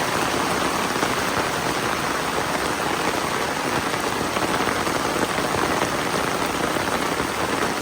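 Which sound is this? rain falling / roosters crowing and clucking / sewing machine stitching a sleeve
rain falling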